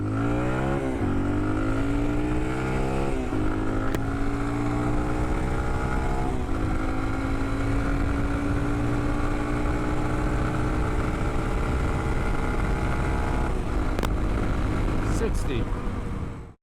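A Yamaha TW200 motorcycle with a power modification accelerates hard through the gears on a timed speed run, its single-cylinder engine note climbing and dropping with each shift, loud and close over steady wind rush.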